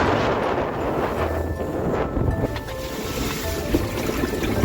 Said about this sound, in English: Waves are building, they're starting to break now